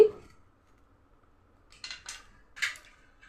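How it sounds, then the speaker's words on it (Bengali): Knife cutting both ends off a pointed gourd (potol): a faint initial tap, a quiet pause, then three short crisp slicing clicks against the board, close and otherwise silent. "পটলটা এইভাবে কেটে নিচ্ছি আমি। দুই সাইড কেটে নিচ্ছি।"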